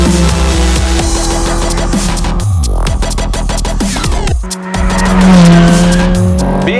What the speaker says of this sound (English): The engine behind you makes a beautiful noise as you're going around the racetrack.